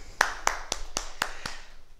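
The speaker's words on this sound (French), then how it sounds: "on s'applaudit" A small group at karate pinan kata practice claps in unison, six sharp, evenly spaced claps in quick steady rhythm, fairly faint with a light room echo.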